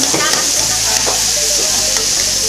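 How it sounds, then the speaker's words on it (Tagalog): Canton noodles fry and get stirred in a hot pan at a lomi eatery, a loud, continuous sizzle with scraping stir strokes close up and faint background voices. "Ano tong niluluto natin ngayon? Canton."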